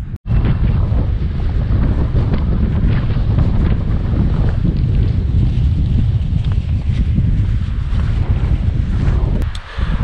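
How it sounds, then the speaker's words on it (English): Strong wind buffets the microphone at Crater Lake, Oregon, for the whole stretch, a loud constant rumbling roar with no voices. "it's a little windy over here, so it might be hard to hear me"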